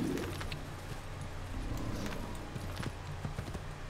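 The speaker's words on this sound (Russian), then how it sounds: "Ну вот, я управляю лошадью." Horse hooves clip-clop in a steady walking rhythm in Assassin's Creed, set in the city of Damascus, close and moderately loud, with faint bird coos mixed into the ambience.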